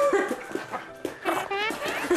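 A pug barks and whimpers in short excited bursts close by, yips mixed with whiny cries, while a person talks over it indoors.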